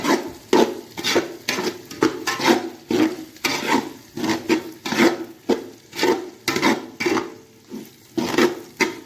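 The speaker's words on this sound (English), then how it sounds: "So I'm going to stir this all together." Chili, paprika, cinnamon and salt being stirred together in a pan for empanada filling, a rhythmic rasping scrape repeating roughly every second, close and alone.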